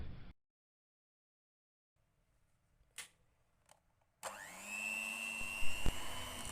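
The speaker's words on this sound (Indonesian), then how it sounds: "ini tinggal di mixer di speed rendah, jangan terlalu lama" An electric hand mixer starts up after near silence and runs at low speed through egg yolks and sagu keju cheese cookie dough, a steady close motor whine with a faint clunk or two as it works.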